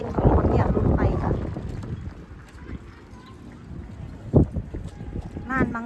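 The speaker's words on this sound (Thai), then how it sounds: "ลมมันแรง" Strong wind buffets an outdoor craft market stall selling knitted yarn goods. It roars and rumbles in loud gusts against the microphone, easing briefly before surging again, while a voice is partly heard through it.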